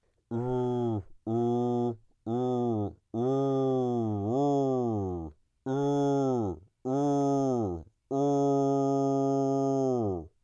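A voice hums in false cord scream position, in a low, gritty, strained tone, broken into several sustained bursts with short pauses between them, close and clear.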